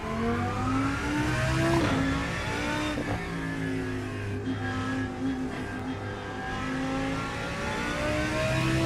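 Renault Clio engine in a racing video game, revving and shifting through the gears with rising and falling pitch sweeps, moderately loud and continuous for several seconds without talk.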